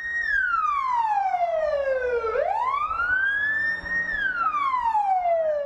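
A fire engine siren wails loudly as two fire trucks arrive at a multi-storey apartment building, its tone sweeping down, then rising and falling again in a smooth, continuous cycle with no other sounds around it.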